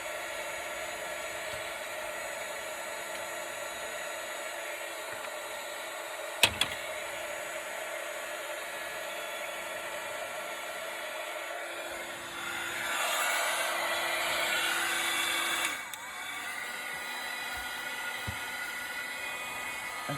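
A heat tool blows hot air across a craft design, giving a steady airy whoosh throughout with a louder, brighter surge near the end before it settles back, plus a brief click along the way.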